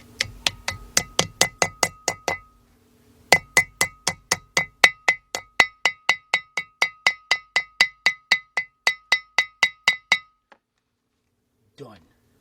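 A hammer taps a grease seal into the front wheel hub of a 1996 Ford F150 pickup, giving a long run of evenly spaced, ringing metallic clinks with a brief pause midway and a faint clatter at the end.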